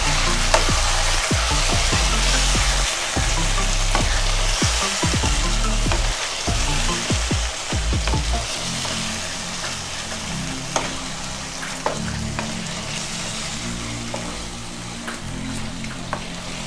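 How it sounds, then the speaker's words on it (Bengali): Mutton pieces fry in a pan for Bengali-style kosha, a loud continuous sizzle broken by repeated scraping and clattering strokes of stirring, which thin out toward the end. "মাংস দিয়ে আমি ভালো করে নেড়ে চেড়ে নেব।"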